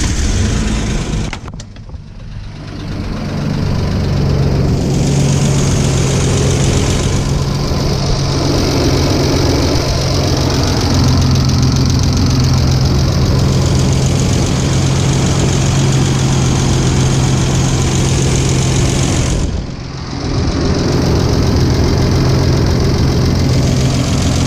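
Toyota FJ62 barn-find engine running at a loud, steady idle with a rough knocking rumble, heard close and constant, with two brief dips in the sound.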